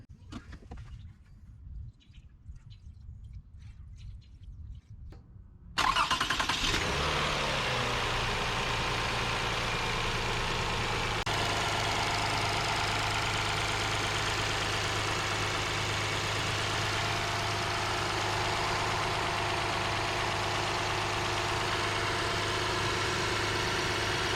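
A daily-driver car engine, just back from a gasket repair, cranks and catches after about six seconds of quiet, then settles into a steady, loud, close-up idle that runs on alone for the rest of the clip.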